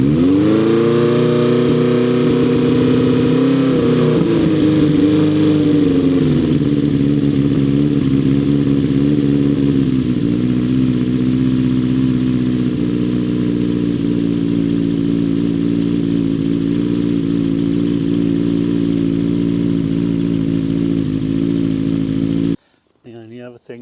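A motorbike engine with the choke on runs loud and close, revving up then settling into a steady, throbbing idle for a long stretch before cutting off abruptly.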